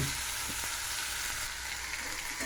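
Potatoes poured into hot oil with green and dried chillies sizzle and fry steadily, a dense continuous hiss close by with a few faint stirring knocks and no talking.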